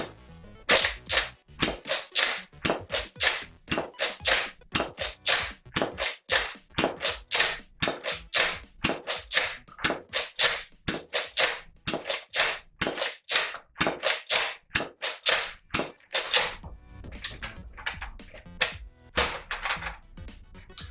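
Nerf Modulus Longstrike CS-6 blaster firing foam darts in rapid succession, a long steady train of sharp close snapping shots with a brief pause near the end, no talking.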